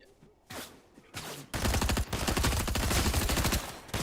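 Rapid bursts of automatic gunfire in a Fortnite match, starting with a few scattered shots and then becoming a loud, continuous volley that runs to the end.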